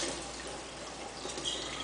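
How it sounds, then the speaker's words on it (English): Water poured out of a hookah base, a soft, steady, faint trickle and splash that runs throughout. "Empty out our base."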